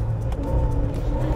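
A Toyota AE86 drifting slowly through a roundabout at about 40 km/h, its engine giving a steady, close, low rumble with no sharp revving across a brief stretch.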